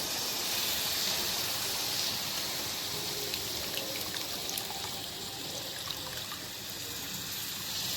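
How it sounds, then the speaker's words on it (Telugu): Tamarind water poured into a pan of dried fish curry, a steady splashing and trickling pour over a bubbling, sizzling pan, continuous and fairly close with no talking. "మనము తీసి పెట్టిన చింతపండు నీళ్ళు ఉన్నాయి కదా ఆ నీళ్ళు అనేవి ఇంకా పోసేసుకోవాలి"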